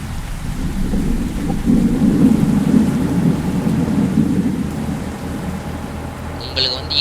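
Thunder rumbles low and steady with rain falling throughout a Bus Simulator game, a broad continuous wash that stays loud and close for several seconds, with a brief brighter patter near the end.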